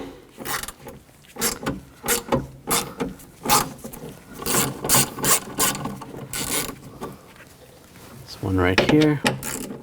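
A socket ratchet clicks in quick bursts while nuts come off the inside of a 2000-2006 BMW X5 rear door during window regulator replacement, close and loud, with a brief spoken remark near the end.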